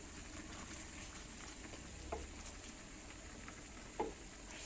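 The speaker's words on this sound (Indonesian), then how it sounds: "Sudah mendidih sausnya." A cheese sauce bubbles in a pan at a gentle simmer, a soft continuous sizzle with occasional small pops, faint and close with no talking.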